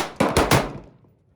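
Three rapid gunshots crack close by in quick succession, each sharp and loud, followed by a short fading echo.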